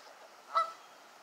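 A single faint honk from a goose in a flock at Central Park, Schenectady, rises briefly out of quiet background ambience, sounding somewhat distant.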